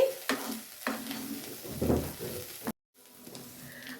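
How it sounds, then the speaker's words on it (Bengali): Cooked egg being stirred and mixed into boiled broccoli in a sizzling pan, with steady scraping and stirring strokes over a frying hiss, a brief silent gap, then the sizzle resumes. "ডিমটা দিয়ে দিচ্ছি ভালো করে মিক্সড করে দিচ্ছি"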